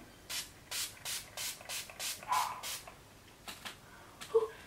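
Chill setting spray misted onto the face in a rapid series of short pumps, about eight quick bursts in a row followed by a few softer, scattered ones, close and quiet with no talking.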